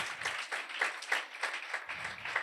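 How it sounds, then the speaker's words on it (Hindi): A church congregation in Karachi applauds in welcome, a steady patter of many hands clapping in a fairly even rhythm, moderately loud and continuous throughout. "ये कलीसिया जो कराची डिफेंस व्यू में मौजूद है, आप सब के लिए तालियां बजा कर आपको वेलकम कहती है"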